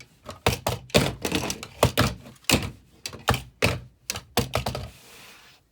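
A plastic Halo Mega Floodgate forklift toy set is knocked over and tumbles, making a series of close, sharp plastic clacks and thuds in irregular bursts before settling.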